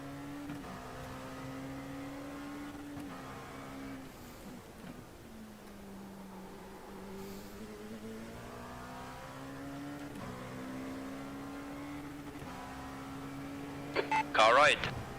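A car engine held at high revs and bounced off the rev limiter during a test session, droning steadily with pitch rising and falling, heard faintly from inside the cabin.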